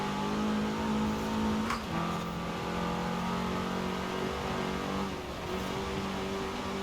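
A steady turbo Porsche 944 engine drone in a racing video game, with a tonal hum, slight pitch shifts like gear changes, running continuously throughout without any talking.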